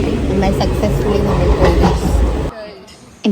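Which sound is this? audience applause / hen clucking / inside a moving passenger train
inside a moving passenger train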